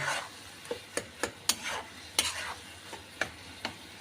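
A spoon scrapes and stirs a carrot laddu mixture in a pan in a quick uneven series of rasping strokes. A soft sizzle runs underneath and no voice is heard.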